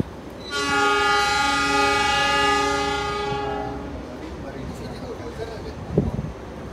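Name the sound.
Tegal Bahari train departing station, horn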